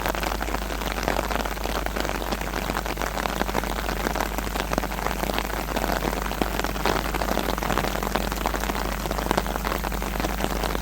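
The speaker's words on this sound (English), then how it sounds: "You can probably hear the raindrops hitting my umbrella." Steady, dense patter of rain drumming close overhead on an umbrella, continuous and even throughout with no voices.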